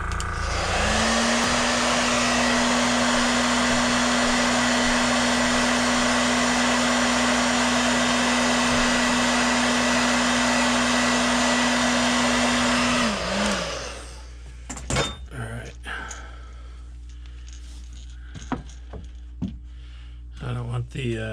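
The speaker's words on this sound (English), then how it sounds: "Let's heat set that before we go any further." A heat gun runs steadily for about twelve seconds while heat-setting paint on old fishing lures, giving a loud, even blowing roar. It then shuts off, followed by light handling clatter with a voice speaking.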